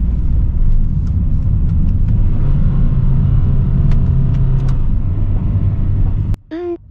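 A Honda Freed Hybrid engine accelerating in low range gives a steady, loud rumble of engine and road noise that holds for about six seconds, then drops off abruptly near the end.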